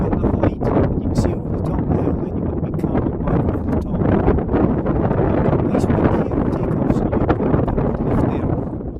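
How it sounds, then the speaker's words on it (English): Strong, continuous wind buffeting the microphone during a paragliding flight above a hill, a loud rumbling roar with gusty fluctuations throughout. "You've got a nice wind here."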